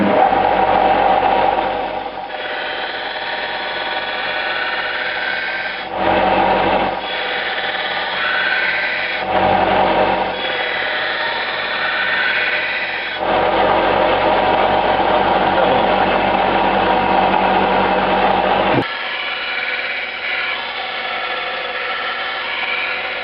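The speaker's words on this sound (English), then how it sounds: "So now we're ready to grind the bevel." A power grinder shapes the bevel on a steel crook knife blade, a loud steady whine running in long stretches broken by brief pauses as the blade is lifted and set back against the wheel.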